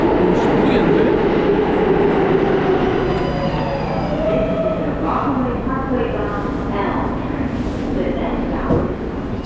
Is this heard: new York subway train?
yes